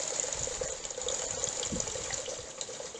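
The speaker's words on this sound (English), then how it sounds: "Oh, including that one, that was a splash." Water trickles and splashes inside an old stone well house at the Hollinshead Hall ruins, a continuous close running-water sound with small splashes and drips throughout.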